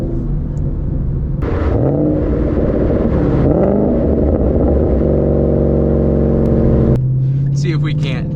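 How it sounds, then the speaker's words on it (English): A Ford Mustang S197 with an MT82 manual transmission downshifts, its engine note dropping and rising through several rev changes in a loud, close cabin rumble, with a voice speaking over it. "Go ahead and get a few downshifts in for y'all."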